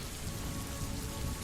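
Steady rain falls and patters densely on surfaces, a soft, even wash of drops with no voices or other sounds.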